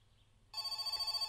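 Telephone ringing in the video game My Summer Car, starting abruptly after a quiet stretch and then sounding steadily as a loud, close electronic bell ring with a rapid pulsing rhythm.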